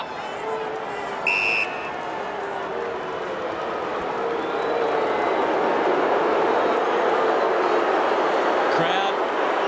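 Crowd at an AFL football match between Carlton and Brisbane in 2009, a dense stadium roar that swells louder toward the end, with a brief buzzer-like tone early on and a commentator talking over it.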